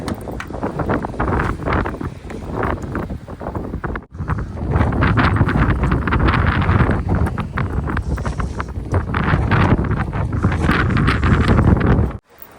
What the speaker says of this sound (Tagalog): Oh, lakas ka ng hangin.